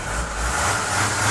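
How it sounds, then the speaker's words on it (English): Mercedes ML 270 CDI diesel engine running close by, a steady mid-low rumble that rises gently in the second half as it revs, with no talking. "Engine revs up nicely."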